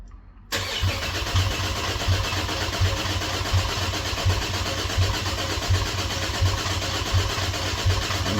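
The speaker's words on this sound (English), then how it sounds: "we'll see if it'll crank over" A Cadillac ATS-V engine cranks and catches after a brief silence, then settles into a loud, steady idle with an even pulsing rhythm close by, no talk over it.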